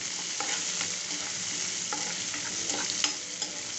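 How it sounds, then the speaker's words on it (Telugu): Onions and curry leaves fry in a pan with a steady, close sizzle while a utensil stirs them, producing repeated scraping strokes. "ఆనియన్స్ కరివేపాకు వేసుకుంటున్నా వేసి కలుపుతున్నాం ఇది ఒక టూ మినిట్స్ వేగనిద్దాం"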